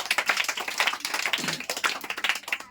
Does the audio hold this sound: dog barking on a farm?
no